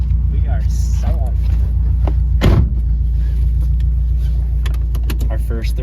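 Subaru WRX engine pulling hard in third gear under boost, a loud steady drone running through the whole stretch with a brief sharp burst midway, under cabin talk.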